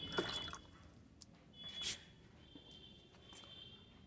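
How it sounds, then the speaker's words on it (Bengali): Water trickles and drips into a potted tulsi plant's soil, a faint, quiet pour with a few soft splashes and pauses. "এবার গাছে জল দিতে হবে"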